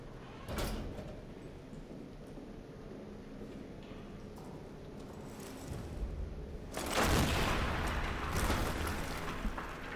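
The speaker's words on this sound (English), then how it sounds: "That was a very small explosion." A small explosion in the horror game Amnesia: The Bunker bursts out as a broad, rumbling blast that lingers for a few seconds, following an earlier brief thud amid low ambient background.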